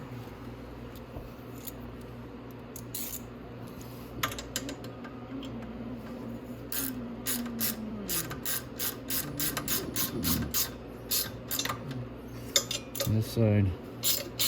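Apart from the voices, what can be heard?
ratchet tightening exhaust nuts on a Grizzly ATV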